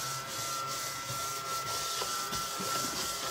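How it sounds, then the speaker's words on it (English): A small mushroom-shaped desk vacuum runs steadily, a constant motor whine and hiss with light rubbing and scraping as it passes over a crafting surface. "My little mushroom, which is also a vacuum cleaner"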